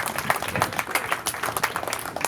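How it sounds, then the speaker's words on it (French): Applause from an audience at a mock trial event, a modest group clapping with distinct individual claps in uneven rhythm, moderately close and brief. "je pense qu'on peut tous les applaudir"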